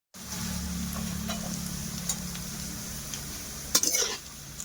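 Vegetarian green jackfruit curry cooks in a pan with turmeric and green chillies. A steady close sizzle runs throughout, punctuated by a few utensil scrapes and stirring clinks, with no voices.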